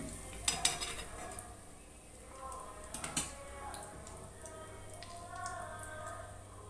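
Chicken pieces fry in a pan at home for chicken fried rice, a faint, soft sizzle broken by a few sharp metal clinks of a utensil against the pan.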